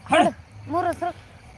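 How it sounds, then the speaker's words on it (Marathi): A dog gives two short yelping barks, close by, with a brief pause between them. "कुत्रा आला"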